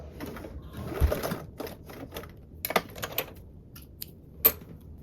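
Sewing machine bastes a D-ring tab at close range, its needle chattering in short rapid bursts separated by pauses, with light clicks and handling noise in between.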